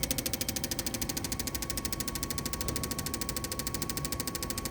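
The motor of an injector cleaner tester runs continuously, giving a steady fast mechanical knocking pulse with a constant hum, loud and unbroken, with no voices.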